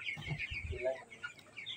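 Chickens on a poultry farm cluck and squawk in short, fairly close bursts, with some low murmuring in the background.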